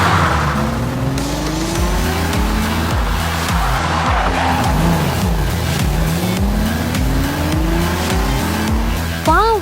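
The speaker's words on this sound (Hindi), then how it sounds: "मिस्टर निर्वाण की ड्राइविंग और बेहतर होती जा रही है।" Racing car engine roaring loud and continuous as it is driven hard, the pitch climbing and dropping through repeated gear changes, with a brief squeal at the end.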